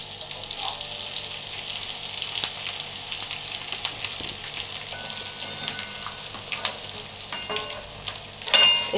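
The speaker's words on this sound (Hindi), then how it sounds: "सबसे पहले हम गोंद को तलेंगे, थोड़ा थोड़ा डालेंगे इसको।" Edible gum (gond) dropped bit by bit into hot ghee, giving a steady, bright crackling sizzle like light rain, close and continuous throughout with small pops and a few louder bursts near the end.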